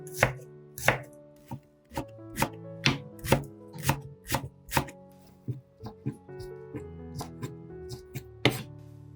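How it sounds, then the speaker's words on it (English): A knife chops green onion stalks into short pieces on a cutting board, a run of crisp, close thwacks in an uneven rhythm of roughly two per second, some strokes heavier than others, with no talking. "cut off the roots of the green onions, then cut the stalks into short, bite-sized pieces"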